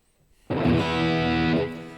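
Distorted metal electric guitar tone played through a Spark amp: a single loud, sustained chord rings out alone for over a second, then begins to fade.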